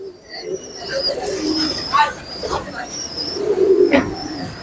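Pigeons coo repeatedly inside a pigeon loft, soft rolling calls rising and falling at moderate loudness, with a few brighter chirps mixed in and no talk.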